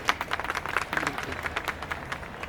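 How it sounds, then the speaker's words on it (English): Moderate applause from a crowd gathered at a hospital event where dignitaries are welcomed, uneven clapping with some voices mixed in. "So big round of applause for all of them"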